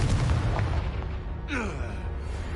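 A Confringo blasting-spell explosion in Hogwarts Legacy, a short booming burst with a bright crackling sweep midway through, close and loud against continuous game rumble.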